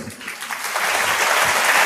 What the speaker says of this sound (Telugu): చప్పట్లు జరిచి